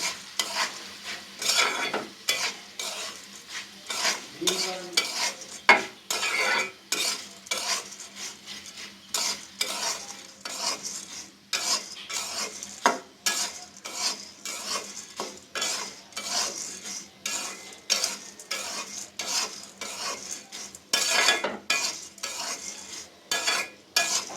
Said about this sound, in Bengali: এখন আমি মুড়িটা ভালো মতন ভেজে নেব।